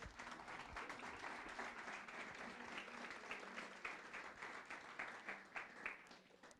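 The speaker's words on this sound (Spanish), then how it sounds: "Dele un aplauso al Rey de Gloria." A church congregation applauds at a worship service, a steady wash of many hands clapping at moderate distance for several seconds with no voices over it.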